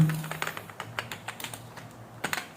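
Keys clatter on a computer keyboard as Python code is typed into a new notebook cell, a fairly quick, uneven run of close, light clicks with short pauses between bursts.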